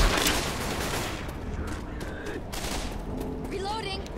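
Dense, continuous gunfire rattles through a Left 4 Dead 2 versus match, with overlapping shots forming a loud, chaotic barrage and faint game voices in the mix.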